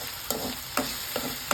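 Ginger garlic paste frying in a pan with salt, a steady soft sizzle broken by four sharp scraping stirs of a spoon, close and moderately loud, no voices.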